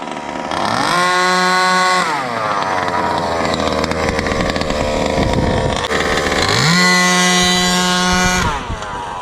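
A 45cc gas engine in a Rovan Max, during break-in, roars up from idle in two loud quarter-throttle bursts, holding a steady high whine before dropping back to a rough idle.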